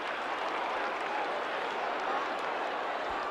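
Crowd at Waverley stadium during a 1990 AFL qualifying final between Collingwood and West Coast, a dense, steady roar of cheering and applause that holds at an even level throughout.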